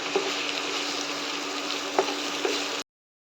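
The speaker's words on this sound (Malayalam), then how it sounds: "എണ്ണ ചൂടാകുമ്പോഴേക്കും അതിലേക്ക് രണ്ട് വലിയ സവാള അരിഞ്ഞത് ചേർത്ത് കൊടുക്കാം" Sliced onions and garlic-ginger paste frying in hot oil for an egg pepper fry, giving a steady close sizzle with a few soft stirring knocks before it cuts off.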